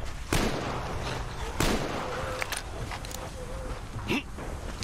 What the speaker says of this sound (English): Do I head towards the gunshots?